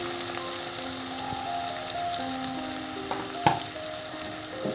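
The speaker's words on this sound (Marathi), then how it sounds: "आता हा कांदा आपल्याला ट्रान्सपरंट होईपर्यंत परतून घ्यायचा आहे" Two finely chopped medium onions fry with garlic in a hot pan for a spiced bottle gourd and chana dal dish, giving a steady close sizzle with stirring and one sharper scrape, no talk.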